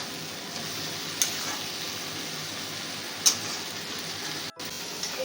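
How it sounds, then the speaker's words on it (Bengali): Ginger, cumin and Kashmiri red chili paste sautéing in a hot pan over a raised flame, giving a steady close sizzle with a couple of brief clicks and no voices. "আদা জিরে কাশ্মীরি রেড চিলি পাউডারের একটা পেস্ট করে রেখেছিলাম সেটা আমি এবার দিয়ে দেবো গ্যাসটা এবার বাড়িয়ে দেবো কষিয়ে নেবো এটা"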